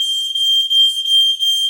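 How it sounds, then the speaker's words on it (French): A smoke alarm going off indoors, its loud, piercing steady tone sounding continuously with slight pulsing dips, near and alone without any voices. "je crois que c'est l'alarme fumée qui s'est mis en route"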